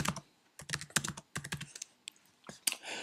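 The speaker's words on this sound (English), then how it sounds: "Once you've typed in details" Rapid typing on a computer keyboard while entering course details, with close, crisp bursts of keystrokes in uneven clusters separated by short pauses.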